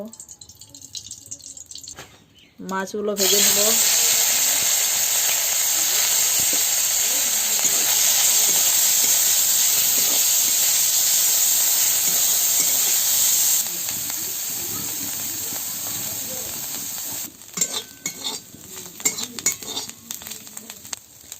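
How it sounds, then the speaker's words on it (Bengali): Prawns rubbed with salt and turmeric hit hot oil in a wok with a sudden loud hiss, then keep up a steady, close sizzle that eases slightly later, with faint clinks near the end. "কড়াইয়ে তেল দিয়ে"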